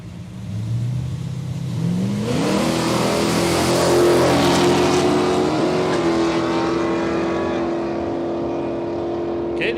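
A Pontiac and an HG model Holden Ute drag race at Palmyra Raceway, engines climbing from idle into a loud sustained roar with rising pitch as they launch, a commentator faintly audible beneath.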